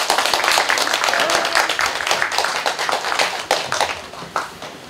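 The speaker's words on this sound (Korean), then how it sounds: "박수로 맞이해 주십시오" An audience at a Seongnam Bundang candidates' meeting claps to welcome a Democratic Party candidate, a scattered crowd of hands that is lively at first and thins into sparse individual claps toward the end.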